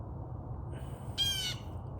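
A single harsh caw from a crow, fairly close and brief, rising over a quiet outdoor background hum with no talk.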